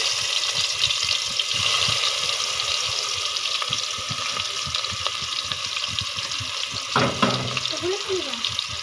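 Chopped onions hit a hot pan for a Bengali flat-bean curry cooked after frying Surma fish, giving a steady close hiss of sizzling oil with a brief louder burst near the end.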